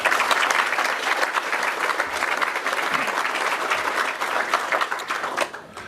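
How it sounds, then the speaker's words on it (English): Audience at a creative sector award ceremony claps steadily, a full room of hands keeping an even roar before tapering off at the end. "So please applaud him."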